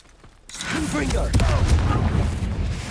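A Confringo blasting spell goes off in Hogwarts Legacy, a sudden booming burst after a brief quiet lead-in, followed by rumbling explosive noise that sustains for a couple of seconds.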